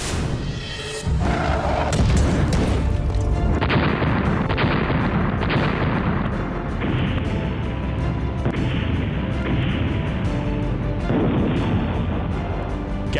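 An explosion at a unit of an Iranian ballistic missile facility: a sharp, heavy blast about a second in, followed by sustained loud rumbling and crackling booms that carry on to the end, with no talk.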